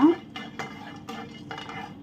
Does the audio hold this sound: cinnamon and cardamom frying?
yes